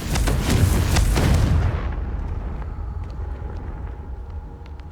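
A heavy, booming fire-spell explosion from the Hogwarts Legacy game bursts close and loud, rumbling for about two seconds before fading into a dull, low reverberating tail.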